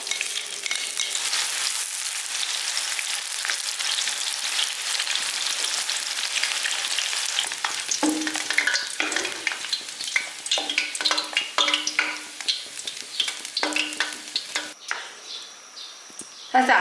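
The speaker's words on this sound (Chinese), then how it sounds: "咱要这个花椒跟洋葱先倒进去炸着。" Sichuan peppercorns and chopped onion fry in hot oil for zhajiang noodle sauce, giving a steady, close, dense sizzle with intermittent stirring scrapes and clicks toward the end.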